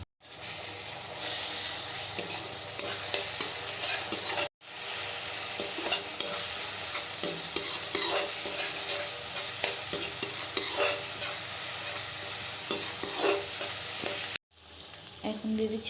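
Ginger-garlic paste sizzles steadily in hot oil in a pan while a spoon stirs it, scraping and clattering over the continuous frying hiss, close and loud with two very brief gaps and no voices, during preparation of a katla fish curry.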